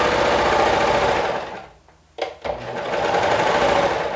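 A serger sewing machine runs loud and steady, stops briefly into near silence with a couple of short mechanical clicks, then starts up again and keeps whirring.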